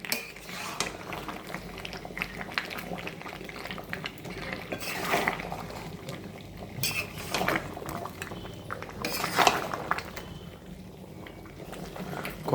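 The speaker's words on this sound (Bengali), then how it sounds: "কষানো চলছে, প্রায় 1 ঘন্টার উপরে কষানো হবে" Meat slowly sautéed and stirred in a pot with spices and oil, a low continuous sizzle and bubbling under repeated spoon scrapes and metallic clinks against the pot.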